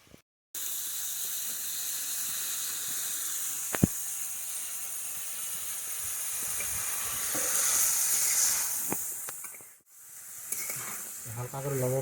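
Cauliflower dropped into a pan of spiced curry masala and water, sizzling and steaming steadily at close range with brief clatters of stirring, no voices.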